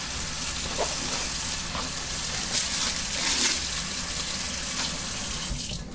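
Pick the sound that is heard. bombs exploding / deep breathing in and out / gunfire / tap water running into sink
tap water running into sink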